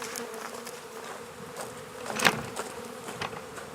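Honey bees from an opened beehive buzz in a dense, close drone, one bee swelling louder as it passes near, with no voices.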